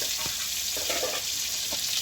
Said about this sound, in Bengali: রসুনটা ভাজা হয়ে গেছে হালকা করে